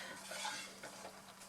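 Big pot of boiling strawberry vanilla jam is stirred with a utensil, giving soft scraping and sloshing strokes over a low bubbling sizzle, close and quiet.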